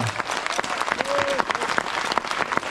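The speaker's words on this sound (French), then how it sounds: "entendre un maximum d'applaudissements pour l'ensemble des bénévoles" A crowd at the start of a mountain trail race claps loudly for the volunteers in a dense, continuous burst, with a voice heard over the applause.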